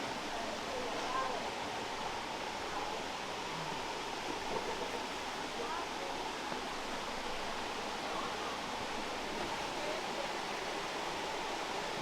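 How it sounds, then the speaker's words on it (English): Grey Mare waterfall in the Scottish Highlands pours in a constant, even rushing roar, steady and moderately distant with no breaks. "Today we're gonna go see the Grey Mare waterfall"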